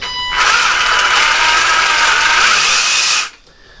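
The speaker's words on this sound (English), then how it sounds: "This 36 volt power head that I've got has a sort of a variable speed trigger, so you can just pull it on as fast or as slow as you like." A Ryobi 36-volt power head with a variable-speed trigger drives IDECH rotary scissors, giving a loud, close, steady high-pitched whine that starts abruptly, holds for about three seconds, then stops cleanly.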